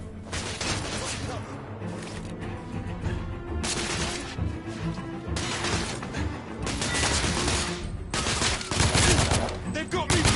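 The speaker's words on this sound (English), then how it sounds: "I'm under heavy fire!" Heavy gunfire rages through a firefight in The Order: 1886, dense volleys and rattling bursts with crashes, loud and sustained, while voices shout over the din.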